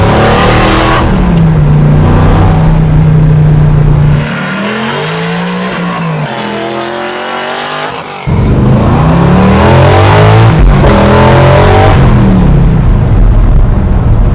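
A Chevy C10 pro touring truck engine revs hard and accelerates, loud close roar climbing through gears, dropping off mid-way to a lower drone and a brief dip, then surging back with tire squeal, no talk.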